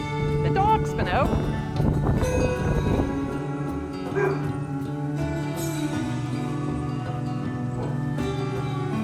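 A farm dog yips, barks and whimpers in a flurry over the first few seconds on an equestrian farm during a blizzard. People talk throughout and a steady hum runs underneath.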